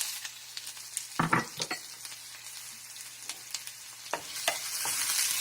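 Onion sautéing in hot oil with mustard and cumin seeds in a pan, a steady close sizzle punctuated by sharp crackles and a few bursts of stirring, with no talking.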